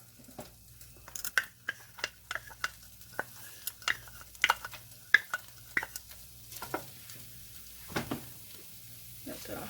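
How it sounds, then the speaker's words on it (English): Onions go into a pan with bacon for charro beans, followed by a faint sizzle and a quick series of sharp scraping, clattering stirs against the pan, with talk over the top. "I'm going to go ahead and put the onions in there."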